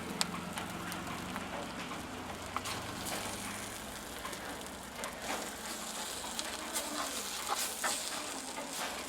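Okra stir-fry stirred in a hot clay pot just taken off the heat, Jaffna style, giving a steady close hiss of sizzling with scattered scraping clicks of the spoon throughout.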